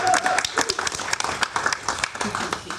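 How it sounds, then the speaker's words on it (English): Brief applause from the audience at a cultural symposium in Weimar, with dense clapping that rises and dips over a few seconds and voices mixed in. "let's give a round of applause for that."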